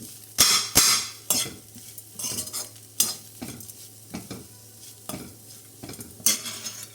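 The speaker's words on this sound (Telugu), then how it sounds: "ఇప్పుడు ఇందులో కడిగి నీట్గా చిన్నగా కట్ చేసుకున్న కొత్తిమీర కూడా యాడ్ చేసుకోవాలి వేసుకొని ఇది కొంచెం ఇలా ఫ్రై అయ్యేలాగా ఫ్రై చేసుకోవాలి" Chopped coriander frying in a pan while making a ridge gourd yogurt chutney, with scraping stirs and soft sizzling, a series of sharp utensil strokes against the pan at irregular intervals.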